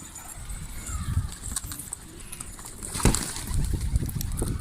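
Pigeons gathered at a bath make soft, scattered bird sounds and fluttering against steady outdoor background noise, with one brief louder burst partway through.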